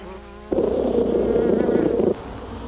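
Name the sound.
bees swarming a saucer of sugar water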